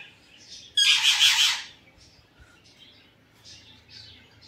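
Lovebirds and wild pigeons kept at a home aviary with hanging baskets give one loud burst of bright chirping and squawking lasting about a second, followed by faint scattered calls over a low background hum.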